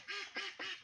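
Ducks on a duck farm give three quick nasal quacks in succession, faint and slightly distant.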